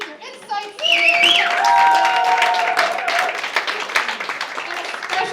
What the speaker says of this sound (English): Let's applaud both teams for their energy, their insights,